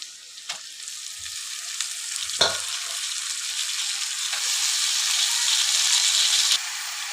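Gangavalli (purslane) leaves for pesare pappu fry in a hot pan with a steady, loud sizzle, broken by a few sharp clanks of stirring near the start and a brief knock near the end.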